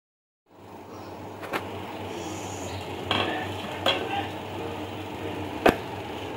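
Pav bhaji for Mumbai street-style cooking is mashed in a hot pan, a steady sizzle broken by a few sharp metallic knocks and scrapes of the masher against the pan.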